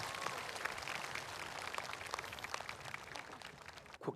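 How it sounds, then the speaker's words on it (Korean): Applause from a crowd at a large Buddhist memorial service in Busan runs as dense, steady clapping for several seconds and then cuts off at the end. "큰 박수로 맞아주시길 바랍니다."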